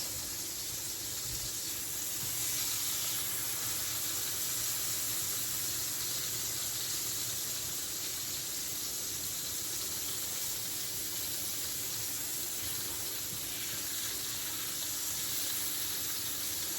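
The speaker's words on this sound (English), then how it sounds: "Take your chopped garlic and put it in. And just lightly fry it for a few minutes." Chopped garlic lightly frying in a pan sizzles with a steady, quiet hiss that stays even throughout, with no talking over it.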